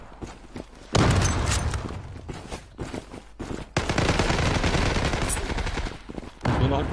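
Loud bursts of automatic gunfire from the Zula online shooter game, close and dense, with rapid repeated shots in several volleys and brief pauses between them.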